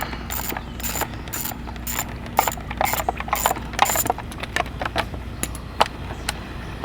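A hand ratchet loosening screws on a 2004 Yamaha R6 motorcycle during chain kit work, clicking in quick close repeated strokes with short pauses, against a faint steady background hum.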